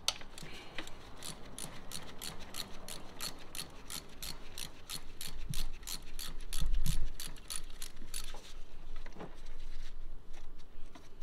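A ratchet clicks rapidly and evenly while loosening the ignition coil bolts on a Ford Mustang, close and fairly loud, in several runs of tight ticking with short pauses between.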